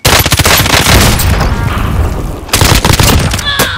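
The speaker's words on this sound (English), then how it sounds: "Throwing grenade." Grenade blast and battle din in Call of Duty: Modern Warfare, loud rapid volleys of gunfire and booms crowding together near the listener, briefly easing before another burst of shots.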